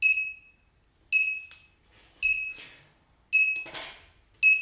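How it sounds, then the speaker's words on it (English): An electronic buzzer on a coding kit board gives short, clear, high beeps. They repeat in a steady rhythm about once a second against a quiet background. "when the buzzer is on, making noise"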